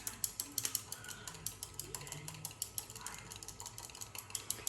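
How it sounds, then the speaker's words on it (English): An overhead mixer stirring a cosmetic body butter emulsion gives a faint, steady mechanical whir with fine ratcheting ticks and light clicks, quiet and continuous with no voices. "Overhead mixer seems to be doing great with the emulsion at the moment."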